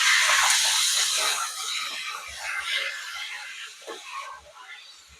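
Garlic and curry leaves fry in hot oil for a tomato pickle, producing a loud, bright continuous sizzle close by that gradually eases, with a few faint low knocks underneath.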